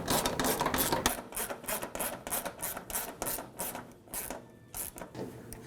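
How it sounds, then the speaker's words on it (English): On a 2005-2009 Subaru Legacy 2.5L H4 fuel tank, a metal lock ring is turned into its rubber gasket with a run of close, rhythmic rasping and ratcheting scrapes, each lasting a moment. "You're going to hear that lock ring actually lock in that rubber gasket there."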